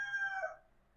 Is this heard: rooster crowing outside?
yes